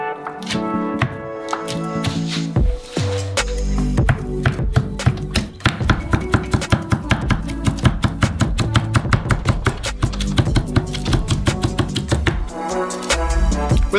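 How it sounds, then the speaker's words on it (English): A knife chopping bacon on a cutting board in a kitchen, loud close blows in a fast, steady rhythm of many sharp thuds that runs throughout. "the last thing you need to cut is bacon"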